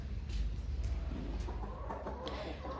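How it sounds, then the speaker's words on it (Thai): A caged fighting rooster on a Thai farm clucks softly in a few short, scattered calls, faint and close against a quiet background. "ไก่ตัวนี้ขังไว้เนาะ เป็นไก่ตีพี่น้องเป็นไก่ตี"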